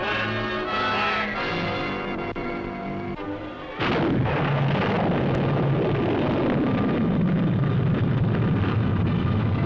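A single heavy weapon fires with a sudden loud blast that rolls into a long, dense rumbling roar, sustained to the end, from a 1950s US military setting.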